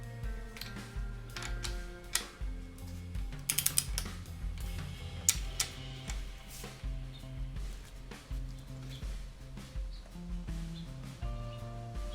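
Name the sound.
torque wrench tightening Chevy 350 engine bolts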